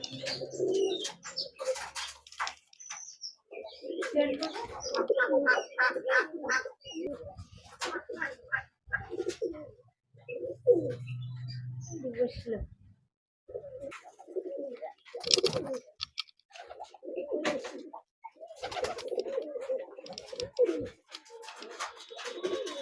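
Pigeons cooing in a loft, soft repeated low coos scattered between bursts of nearby talk, with occasional chirps in the background.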